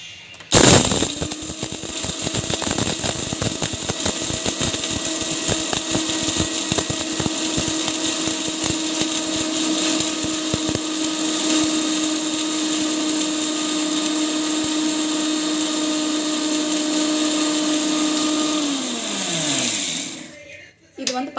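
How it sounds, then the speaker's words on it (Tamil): A kitchen mixer grinder pulverizing homemade hair oil ingredients into fine powder, a loud continuous motor whir starting abruptly and running steadily for about twenty seconds before winding down. "நம்ம வந்து மிக்சியில் போட்டு ஒரு ஃபைனான ஒரு பொடியாக ஆட் பண்ண போகிறேன்"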